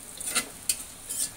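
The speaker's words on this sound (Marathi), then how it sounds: "कांदा आपल्याला चांगला परतून घ्यायचा आहे" A spatula gives three brief, faint scrapes in a pan while onion is sautéed for matar paneer masala, with quiet gaps between the strokes and no talk.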